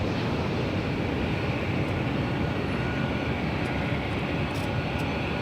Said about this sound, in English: And this is Delta Airlines 1250 coming in from Seattle.